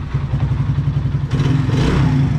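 A small Mustang motorcycle engine idles close by with a rapid, even putter, briefly picking up a rougher, slightly higher tone near the end.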